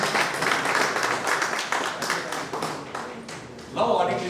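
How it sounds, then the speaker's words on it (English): A small group claps at a vestibular workshop, scattered claps rather than full applause, with talking running underneath and over the clapping. "Only so many claps, only from organizer side it is coming."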